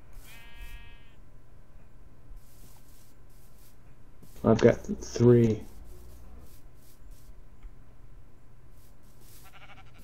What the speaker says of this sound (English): Tons of sheep and stuff over here.